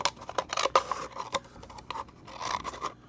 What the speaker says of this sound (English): So what I'm going to do is just take a pair of scissors